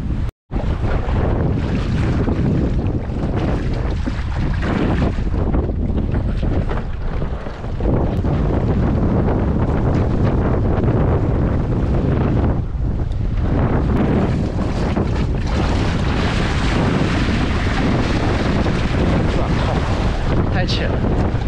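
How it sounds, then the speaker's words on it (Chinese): Strong wind roars over calm, flat water at an island shore, a loud continuous gusting rush buffeting the microphone throughout, with a brief dropout near the start. "风很大，水很平。"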